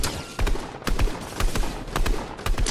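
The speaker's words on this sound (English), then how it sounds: "Whoa, somebody else is shooting at me." Gunfire from the Fortnite video game: a rapid volley of sharp, loud shots in quick irregular bursts, close by, with no talking over them.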